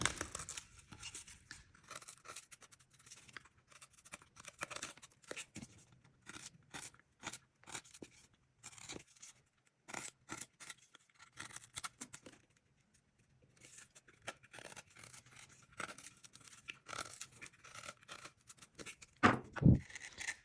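A knife carving a small wooden whimsical gnome hat, cutting in from the top to meet an opposite cut, giving close, quiet scraping and crunching strokes in irregular bursts with brief pauses, no voice.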